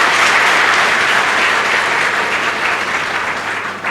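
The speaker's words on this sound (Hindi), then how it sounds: "मैं चाहती हूँ एक बार जोरदार तालियां इस संस्था आर्थ अकेडमी के लिए।" Loud, dense applause from an audience at an Arth Academy felicitation ceremony, a steady wash of clapping that holds strong for about four seconds before easing slightly at the end.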